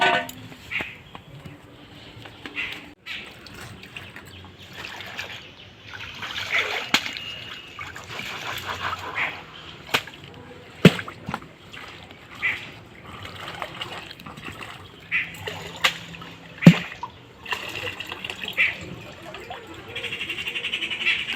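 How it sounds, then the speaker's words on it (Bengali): Peeled ginger is washed by hand at a village bathing ghat, with close trickling and splashing of water in irregular bursts over outdoor ambience with frogs croaking. "এবারে এগুলোকে আমি জলে ধুয়ে নিয়ে আসবো।"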